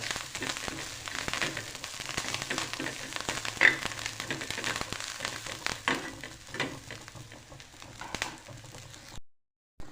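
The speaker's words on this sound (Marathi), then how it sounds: "आता कोथिंबीर असं झालेली आहे थोडीशी परतून घेतलेली आहे" Fresh coriander leaves sauté in a pan with green chili and garlic paste, giving a steady soft sizzle with scattered scraping clicks, fairly close, with no talking, before a brief cut to silence at the end.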